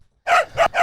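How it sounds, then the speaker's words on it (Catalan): A dog barks three times in quick succession after a short silence, loud and close, the barks short and sharp with no talking over them. "Envia-li el gos d'en Ramon."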